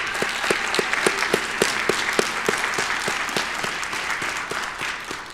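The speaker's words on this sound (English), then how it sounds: "We'll give her a round of applause" Sustained applause from a commencement audience at a STEM graduation ceremony, with steady dense clapping and a few sharper individual claps standing out throughout, fairly loud and continuous.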